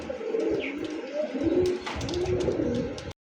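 A male pigeon coos close by in a steady run of low, throaty rolling calls, with other bird sounds around it at a pigeon seller's.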